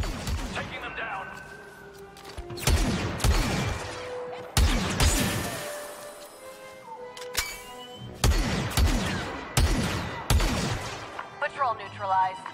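Repeated bursts of blaster fire in a Star Wars Battlefront II battle, loud clustered volleys separated by short pauses and layered with crashes and impacts, with voices talking over parts of the fighting.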